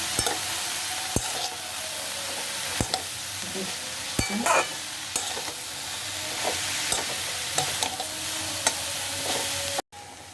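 Banana stem stir-fry sizzles in a wok with a constant close hiss, while a spatula scrapes and knocks against the metal in irregular strokes of stirring.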